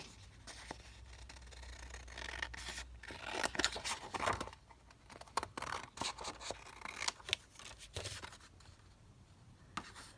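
Scissors snip and slide through paper for a craft junk journal, up close and quiet, in irregular bursts of cutting with brief rustles and pauses between strokes.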